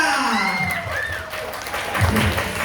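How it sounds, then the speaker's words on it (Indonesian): An audience applauds at a school quiz competition final, a steady wash of clapping over the whole moment, with a voice talking through it. "Mana tepuk tangannya semuanya?"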